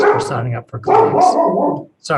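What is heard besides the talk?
dog barking in the background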